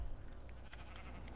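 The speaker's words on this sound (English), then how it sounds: "do you need any more wool? Because there's more sheep down here." Minecraft sheep bleating over steady game background noise, several short faint calls spread across a little over a second with no talk.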